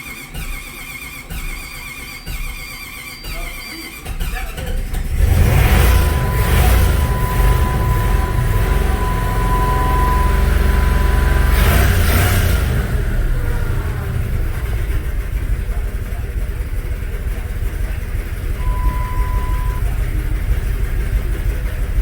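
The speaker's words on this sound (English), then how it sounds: "Actually sounds like it's idling okay." A 1996 Jeep Grand Cherokee with throttle response trouble cranks and then settles into a steady, loud idle, a low engine drone that holds evenly for many seconds.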